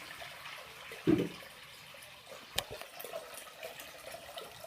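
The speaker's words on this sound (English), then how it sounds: "drain the water." Water drains from a mini washing machine's hose, running and trickling steadily nearby with a brief gurgling splash near the start, a soft continuous flow throughout.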